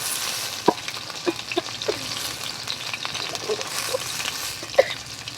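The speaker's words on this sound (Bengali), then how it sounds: "পনিরটা আমার লাল লাল করে ভাজা হয়ে গেছে" Paneer fries in hot oil, producing a steady close sizzle with scattered crackles and pops, and a few light clinks from stirring over the continuous hiss.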